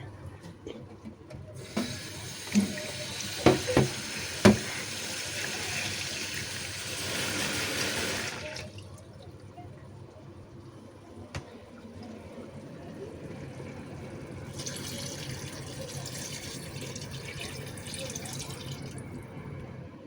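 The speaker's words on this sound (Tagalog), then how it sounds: "Lagay tayo ng tubig." Water pours steadily into a pot for several seconds with a few metallic clanks, then after a quieter pause a second, shorter pour follows, while cooking tinola soup.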